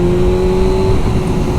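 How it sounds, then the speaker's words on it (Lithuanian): An old Yamaha R6 sport motorcycle engine holds a loud, steady droning tone while being ridden, with a constant rumble underneath and no pauses or talking. "Kalbant apie R6, labai smagus motociklas"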